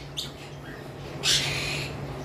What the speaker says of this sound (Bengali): এই সেই গ্রিন ফিশার যেটার কথা বলেছিলাম, এই পেয়ারটা আসলে বন্ডিং করার কারণে এদেরকে আলাদা রাখা হয়েছে